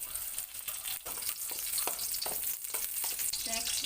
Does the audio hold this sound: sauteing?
yes